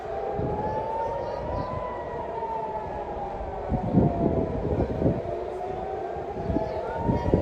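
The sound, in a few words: air raid sirens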